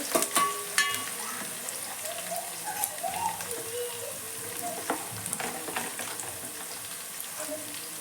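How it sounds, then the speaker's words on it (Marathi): Onions, crushed garlic and curry leaves fry in hot oil with a continuous crackling sizzle and scattered pops, close and steady, while faint voices murmur in places. "आता मी याच्यात कढीपत्ता घालते कांदा चांगला लाल होऊन द्यायचा आहे"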